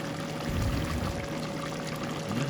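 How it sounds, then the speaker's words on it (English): A pot of rice and black-eyed peas bubbles on the stove, a continuous rushing, watery burble at moderate volume with no voices. "the pot is bubbling up"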